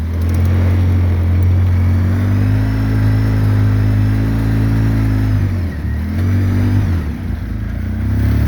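A 2013 Polaris RZR 800s side-by-side with a rebuilt engine runs close and loud with a steady droning hum. The revs dip briefly twice before settling back to an even idle-to-mid rumble, and no one speaks.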